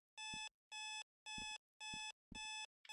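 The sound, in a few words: annoying alarm clock ringing in the video game Sally Face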